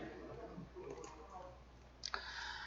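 A single faint mouse click sounds on a confirm button during 3D CAD modelling work in a quiet room, a short sharp tick after a stretch of near silence.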